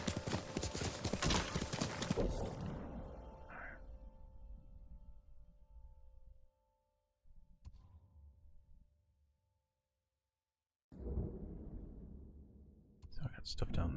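Rhythmic horse hooves clip-clop loudly at first in the video game Ghost of Tsushima, fade into near silence with a few faint thuds, then resume steadily toward the end.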